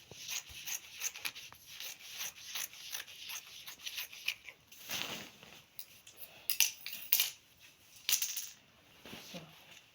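Scissors snipping and rubbing through fabric while cutting pieces for a long flared shirt dress, soft and close, in irregular bursts of short crisp cuts and paper-like rustles.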